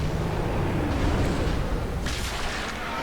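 A dragon dies in Dark Souls in a loud, continuous roaring explosion that rumbles heavily for a few seconds, with a hissing burst rising near the end.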